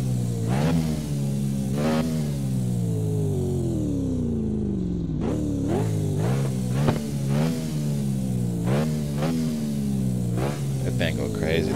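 A Lamborghini engine in CarX Drift Racing on console climbs in a long rising rev and then barks through a string of quick throttle blips, loud and close, with a voice talking over it.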